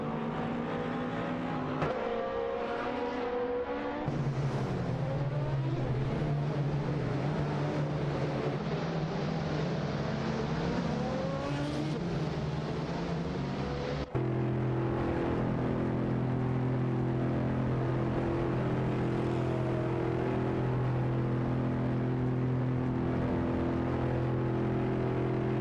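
Race car engines in a racing video game, with Audi cars among them: continuous loud whining drones that rise and fall through shifts, then switch abruptly to a steadier layered engine note as the view changes.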